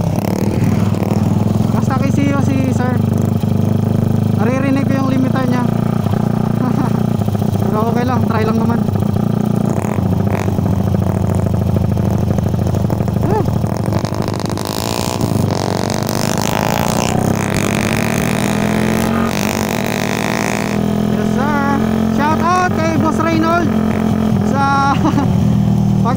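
A tuned Mio scooter and a Raider 150 motorcycle of the A-Specs Racing Team run loudly and close, engines droning and rising in pitch through repeated revs, with people talking over them.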